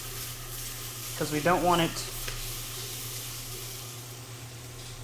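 Burned corn sizzling steadily in a hot pot while a spoon stirs it, with a brief scraping burst in the middle, all under a person's speech.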